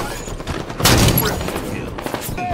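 Shotgun blasts in a multiplayer video game match: a loud, dense burst of gunfire near the middle, surrounded by busy game effects and a voice talking.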